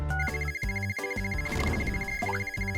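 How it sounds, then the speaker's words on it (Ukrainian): A toy phone in a doll play scene plays its ringtone for an incoming call, a bright electronic melody of short repeating notes, loud and alone. "Ой, дзвінок від Мії."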